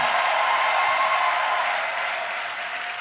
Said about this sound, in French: Offrant d'acclamation à Jésus-Christ.